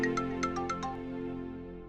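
A mobile phone ringtone sounds a short run of bright chiming notes over a steady low hum, fairly soft and fading away.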